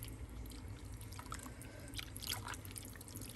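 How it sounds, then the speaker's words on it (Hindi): Water trickles and splashes steadily into a pot of goat leg meat being readied for slow cooking, a soft continuous pour with faint drips, heard alone without talk. "मुझे थोड़ा सा पानी डालना है, यही एक मैं भर के पानी का इसमें डालूँगी"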